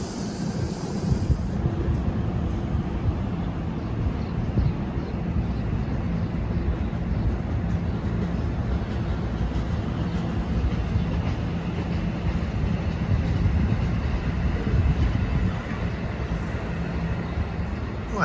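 New Jersey Transit train 3856 from Trenton, bound for New York, rolls through the station with a continuous loud, close rumble and clatter of wheels and cars that holds steady throughout.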